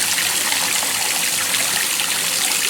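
Water from a loosened sink faucet trickles in a steady, continuous stream, fairly close and alone, with no distinct separate drops.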